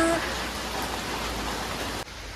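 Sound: heavy rain

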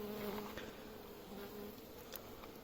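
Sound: honeybees buzzing

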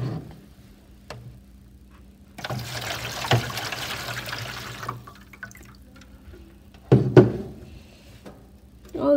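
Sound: water flowing against a homemade stick, mud and clay dam

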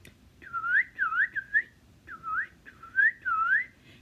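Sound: whistled imitation of a cardinal's song

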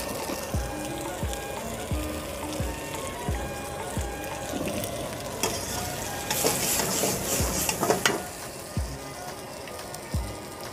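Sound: vegetables frying for Mongolian rice and noodles

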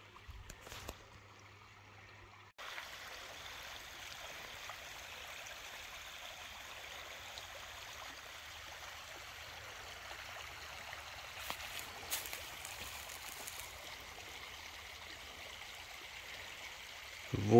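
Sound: spring meltwater stream flowing

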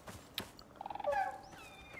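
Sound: ostrich call in the video game Icarus

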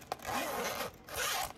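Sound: zipper on a silicone pouch being pulled

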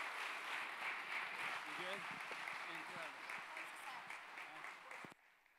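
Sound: audience applause in church

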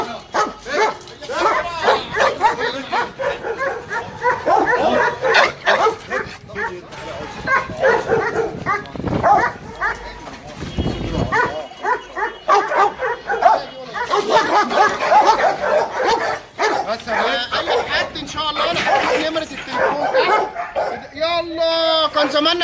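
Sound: dogs barking at dog farm

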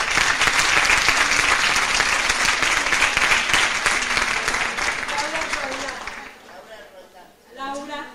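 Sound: audience applause welcoming a speaker

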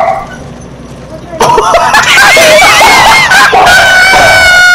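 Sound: person imitating a dog barking

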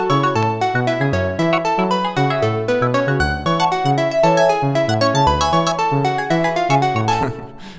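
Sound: FM8 arpeggiated synth chord loops in Logic

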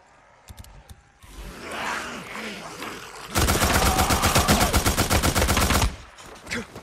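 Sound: gunfire in the video game Days Gone

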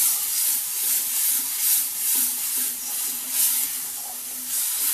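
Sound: masala spices frying in oil

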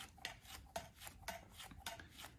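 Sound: card scraping up the side of a coiled clay cup

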